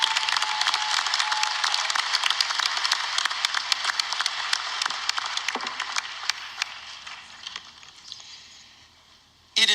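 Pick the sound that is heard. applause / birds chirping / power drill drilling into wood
applause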